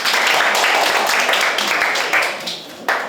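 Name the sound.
applause, clapping for a student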